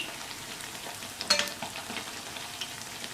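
Rice flour appam frying in a pan over moderate flame, a continuous soft sizzle and crackle, close and fairly even, with a brief louder stir or scrape midway.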